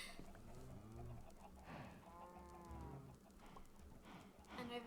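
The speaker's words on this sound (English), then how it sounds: "Here's our giant farm filled with chickens and cows." Cows mooing on a Minecraft farm full of chickens and cows, several drawn-out game moos overlapping in a steady, moderately loud stream with faint clucking mixed in.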